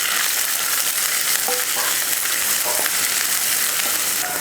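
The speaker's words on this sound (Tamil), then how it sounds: "இப்போ இதை வதக்கிடலாம்" Sliced big onion, curry leaves and green chili sautéing in hot oil in a pan for mutton egg varuval, a steady close sizzle with a few stirring scrapes, no talk.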